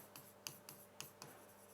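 A pen scratches words onto paper in short, quiet strokes, a few crisp scratches and taps spaced irregularly, close and faint against a near-silent room with no talking.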